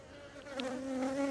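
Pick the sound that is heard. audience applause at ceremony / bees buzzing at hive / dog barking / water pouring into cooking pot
bees buzzing at hive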